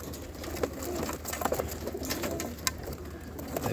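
Pigeons cooing softly in a loft, a steady low murmur of several birds with scattered faint wing flutters and clicks, fairly close, no talk.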